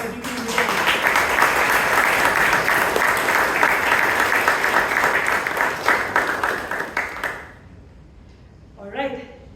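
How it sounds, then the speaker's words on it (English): A big round of audience applause at a Toastmasters club meeting, dense and loud clapping for about seven seconds that then stops abruptly, followed by a brief faint voice. "Can we have once again a big round of applause for Vijay?"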